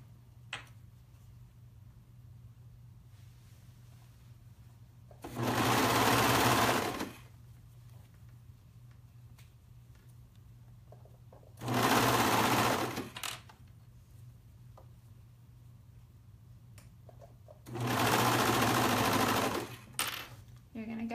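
A serger overlock machine runs along a pullover seam in three loud, close bursts of about two seconds each, separated by pauses where a low hum and faint handling remain.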